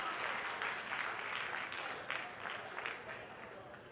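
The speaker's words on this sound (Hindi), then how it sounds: "जोरदार तालियां" Audience applause at a Hindi poetry gathering (kavi sammelan) during the Aligarh Mahotsav 2022 festival, a steady, dense wash of many hands clapping at moderate distance, fairly quiet overall with a few sharper claps standing out near the end.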